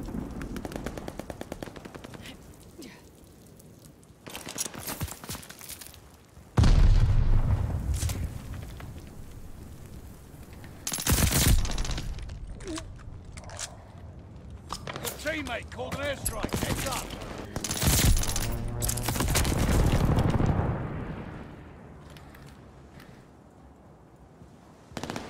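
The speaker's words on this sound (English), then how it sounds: "It's a little rattler gun." Rapid bursts of video-game machine-gun fire from a small rattling gun, loud and repeated across the stretch with brief pauses and other game noise between volleys.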